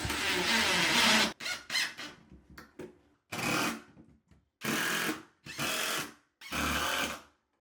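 A power drill pre-drills holes for 2.5 to 3 inch screws through a wooden ledger board into wall studs while a bathtub is installed. The drill whirs loudly in about five separate bursts, each lasting around a second, with short pauses between them.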